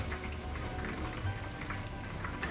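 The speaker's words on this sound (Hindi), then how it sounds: "हम चरगा बना रहे हैं लाहौरी, इसलिए हम इसको फ्राई भी कर रहे हैं साथ में" A large whole Lahori chargha chicken fries in hot oil with a dense, continuous sizzle and crackle that stays close and steady, with no talking over it.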